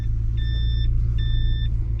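Toyota Prado 90 series reversing alarm: two sustained electronic beep tones, each about half a second, repeating in a steady rhythm over a loud, low idling engine rumble.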